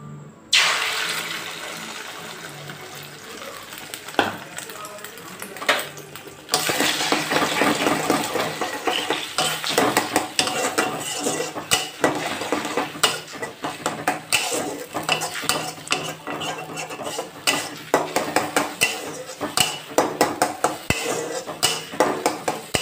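Egg and chicken fried in a hot wok seasoned with soy sauce, pepper and salt: metal spatula clatters and scrapes against the pan over a constant sizzling hiss, near and busy, with no talking.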